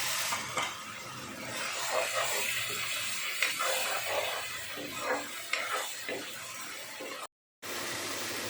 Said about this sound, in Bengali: এবার এই বাটা মশলাটা পুরো দিয়ে আমি